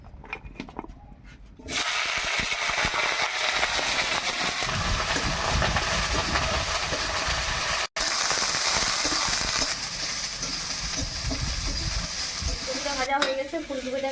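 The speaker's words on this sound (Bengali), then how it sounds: "এবারে ফুলকপিটাকে ভেজে নেব।" Cauliflower hits hot oil in a wok and sizzles loudly and steadily after a quiet start, a dense continuous frying hiss with a brief cut midway and some stirring near the end.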